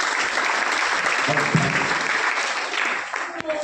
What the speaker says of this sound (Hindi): मैं चाहूंगा एक बार तालियां होनी